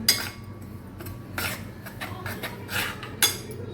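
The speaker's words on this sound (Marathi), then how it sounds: "असा भाजून घ्यायचा रवा असा भाजून घ्यायचा" Semolina dry-roasting in a pan while a spoon scrapes and clinks against the metal in intermittent strokes, close and moderately quiet, with no voices.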